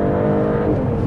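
The inline-six engine of a 2024 Mercedes CLE 53 AMG revs hard and loud, a dense, continuous rising roar heard close up with no talk.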